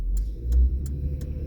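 A small car accelerates away ahead on a snowy road, its engine a steady mid-level rumble heard from inside another vehicle, with faint periodic clicks over the drone.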